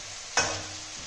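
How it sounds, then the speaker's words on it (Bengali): Chopped garlic and grated ginger drop into a hot pan and start frying, a sudden sizzling hiss that flares up sharply and then settles into a steady, softer crackle. "একটু ভেজে নেবো।"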